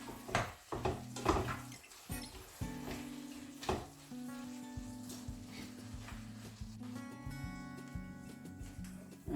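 Tomatoes stirred into a vegetable curry in a hot pan: a low sizzle runs throughout, broken by several close scraping and knocking strokes of the utensil against the pan.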